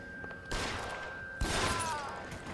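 Gunfire in the video game L.A. Noire, two sharp shots about a second apart, each trailing into a ringing, echoing decay, with a thin steady tone running underneath.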